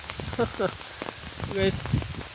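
Heavy rain patters steadily on a surface throughout during flooding near a swollen river in Hajo, Assam, with a voice talking over it in short bursts.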